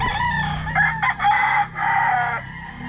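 A Golden Boy gamefowl rooster on a farm crows loudly and up close, one sustained, strained call with a short break partway through.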